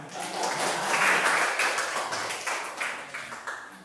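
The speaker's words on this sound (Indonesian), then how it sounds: "tepuk tangan" A class of schoolchildren claps together for a few seconds, a scattered, slightly uneven patter of small hands that swells and then thins toward the end, with a faint murmur of voices underneath.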